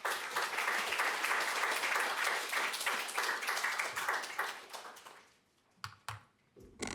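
An audience claps in warm welcome for a speaker at a talk on regenerative urbanism, a steady wash of dense clapping that fades out after about five seconds, leaving a few isolated claps.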